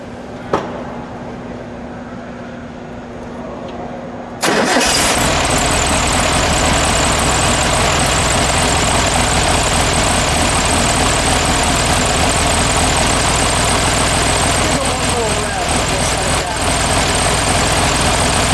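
A 1962 Volkswagen Beetle engine cranks and catches at about four seconds, then settles into a loud, steady idle that runs uninterrupted to the end.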